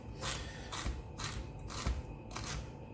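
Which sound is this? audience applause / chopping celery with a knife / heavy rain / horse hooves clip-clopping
chopping celery with a knife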